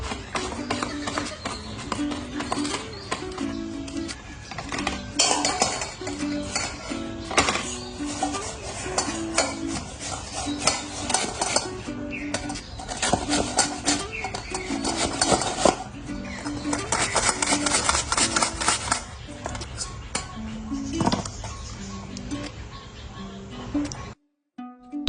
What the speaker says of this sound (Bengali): তারপর আমগুলোকে কুচি কুচি কুচি করব